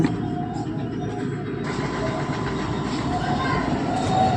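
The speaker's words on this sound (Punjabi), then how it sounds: "ਟਰੈਕਟਰ ਚੱਲ ਰਿਹਾ ਇਧਰ" A tractor's steady low engine rumble runs throughout, with a slight shift partway through, under faint background voices.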